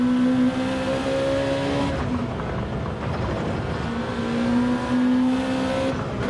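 Race cars in a Gran Turismo-style Gr.2 race on the Trial Mountain circuit drone past with engine whine and a screechy tire squeal through a corner, steady and fairly close.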